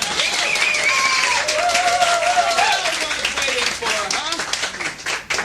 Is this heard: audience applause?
yes